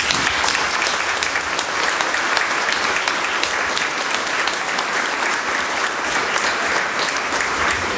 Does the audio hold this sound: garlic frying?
no